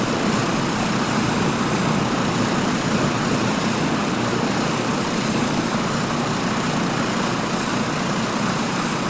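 Airbus H225 Super Puma helicopter in Microsoft Flight Simulator 2024, a steady, loud, continuous engine and rotor drone that holds unchanged with no pauses.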